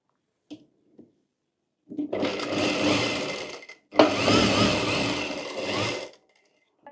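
Electric sewing machine stitching a kurti, running in two sustained near bursts of steady whirring separated by a short pause, with a couple of faint clicks before it starts.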